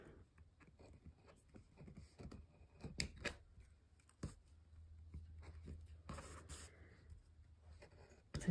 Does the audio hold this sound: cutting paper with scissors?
yes